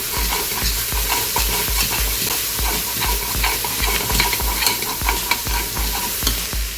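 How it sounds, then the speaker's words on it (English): Chopped garlic and vegetables frying in a pan, stirred with a rhythmic run of close scraping strokes over a bright steady sizzle, no talking. "I'm going to stir that around."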